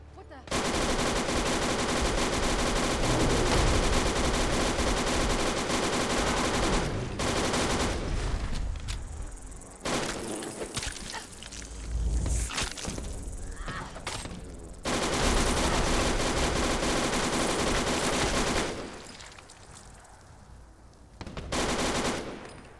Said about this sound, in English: Now let's test out the light machine gun, the LSW.